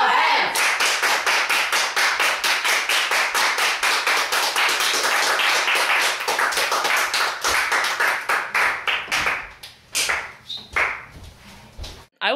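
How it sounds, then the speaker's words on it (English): An audience claps hands in steady, rhythmic unison, loud and close, before the clapping breaks into scattered, uneven claps and fades near the end. "Everybody clap your hands!"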